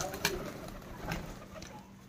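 Pigeons fed grain in a pet vlog setting, soft cooing and brief bird calls close by with a couple of sharper sounds, quiet overall.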